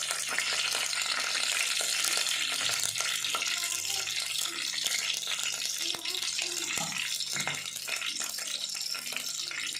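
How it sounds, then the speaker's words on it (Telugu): Green chili pieces frying in hot oil for a mysore dal curry, a steady close sizzle running throughout with occasional stirring clinks and faint watery sounds in the background. "ఆయిల్ అనేది వేడెక్కిన తర్వాత మనం ముందుగా కట్ చేసి ఉంచిన పచ్చిమిరపకాయ ముక్కను కూడా వేయాలి. ఇవి కొద్దిసేపు వేగనిద్దాం."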